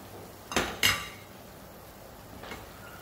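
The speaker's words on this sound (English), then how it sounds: "When the gravy boils, add in the vegetable." Vegetables are tipped into boiling gravy in a pot while cooking Penang-style yee mee: two sharp, close metallic clanks in quick succession, then a fainter third knock over a quiet background, with no talking.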